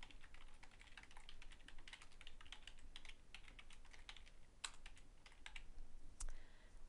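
Quiet, close tapping on a computer keyboard, irregular bursts of keystrokes continuing for several seconds with short pauses, no speech.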